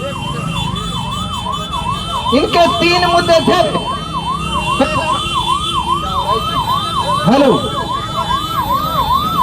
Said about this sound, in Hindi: हमारे वॉलंटियर से निवेदन है एम्बुलेंस को निकलवाइए